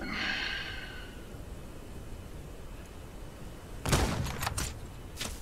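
A gun fires at a homestead shooting range, and a short burst of sharp cracks sounds near the end after a quiet stretch, with a faint breathy noise at the start.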